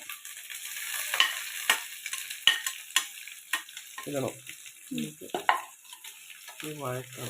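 Ginger, garlic, green chilli and crushed shallots for chicken thoran sizzle in hot oil while being stirred, with sharp scraping strokes early on and short bursts of sputtering frying later, close up and without talk.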